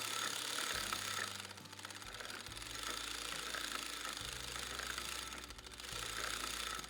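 The carriage of an LT150 sock knitting machine is cranked round steadily, giving a rapid mechanical clatter and whirring hum that rise and dip in loudness as it turns, with no voices.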